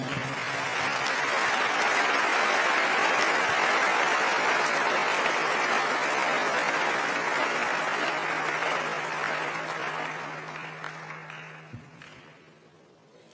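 Church congregation applauding the Lord during a French-language service, a broad sustained wash of clapping that fills the room steadily before fading out toward the end, with a low hum beneath.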